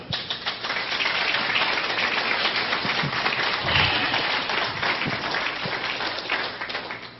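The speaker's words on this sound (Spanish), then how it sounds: "Den un aplauso fuerte al Señor." Church congregation applauding during a Spanish-language sermon, a thick, even patter of many hands clapping at once, steady and fairly close, sustained throughout with faint voices underneath.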